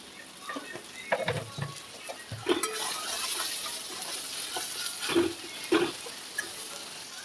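Turmeric, sugar and vegetables fry in a pan with a soft continuous sizzle, broken by occasional scrapes and knocks of a stirring spoon, close up and moderately quiet.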